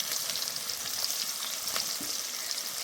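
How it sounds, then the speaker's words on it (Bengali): Chopped onion and green chili frying together in hot oil for a prawn and jackfruit curry, a steady bright sizzle with faint crackles and a soft stirring scrape, close and continuous with no talk. "একসাথে ভেজে নেব।"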